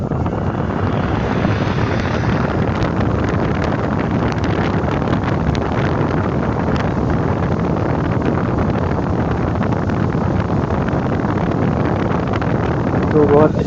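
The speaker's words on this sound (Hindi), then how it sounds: "देख सकते हैं फैन रोटेट हो रहा है" A stand fan, freshly repaired and wired through a 200-watt series test bulb, runs at speed and blows a steady, loud rush of air throughout, with someone speaking over the constant whooshing.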